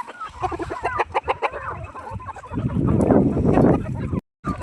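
Several chickens cluck and squawk close by while eating leftover cabbage, busy and agitated, with a rising flurry of rustling and pecking noise toward the end.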